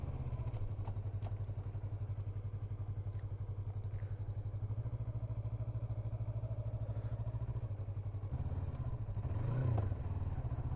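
A Yamaha MT-03 motorcycle rolls at about 10 km/h in fourth gear near 4,000 rpm, its engine a steady, close, low throbbing drone throughout with no speech.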